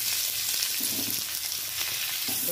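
Onion, green chilli and bay leaf fry in hot oil with a steady, close sizzle and faint crackle throughout, no voices.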